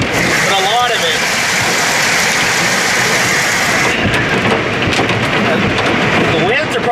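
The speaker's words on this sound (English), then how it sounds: "The winds are probably blowing about 50 miles an hour, 50 to 60 so far." Strong 50 to 60 mph winds roar through a hailstorm in Duncan, Oklahoma, a loud, unbroken rushing wash of wind and hail that stays close and constant throughout.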